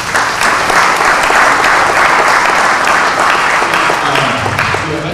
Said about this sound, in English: So give yourself another round of applause.